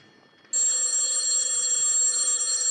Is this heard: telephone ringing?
yes